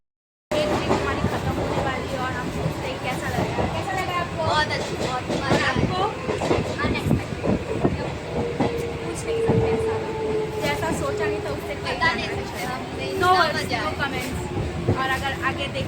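A Mumbai local train ride from Andheri to Borivali: steady onboard rumble with rhythmic clattering of wheels over rail joints, a long squeal partway through, and passenger chatter throughout.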